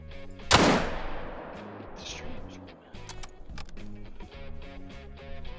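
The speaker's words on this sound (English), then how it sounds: "I'm shooting a bighorn" A single loud rifle shot rings out at a bighorn sheep in a hunting video game, then decays into a long echoing tail over soft background game sounds.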